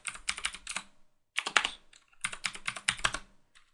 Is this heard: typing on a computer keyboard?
yes